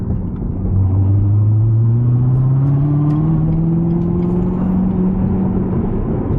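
A Chevrolet Corvette C7 ZR1 supercharged engine with 52K miles, throaty and loud, revving up in one long rising pull after a brief idle, heard close by with no talk.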